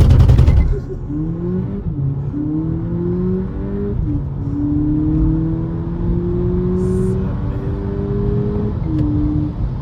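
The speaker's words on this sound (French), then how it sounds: "Je vais cramer la roue." A 2025 Volkswagen Polo GTI accelerating hard with wheelspin on a country road, a loud burst at launch followed by a climbing engine note through several quick upshifts, recorded close from inside.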